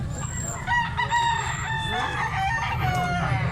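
A Sweater bloodline gamefowl rooster crows close by, loud drawn-out calls with other fowl clucking and a low background rumble.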